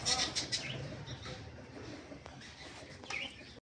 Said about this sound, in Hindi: और ये देखिए परू चाचा ने मुर्गियाँ भी रखी हुई हैं।